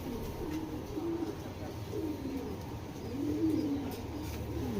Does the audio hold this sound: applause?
no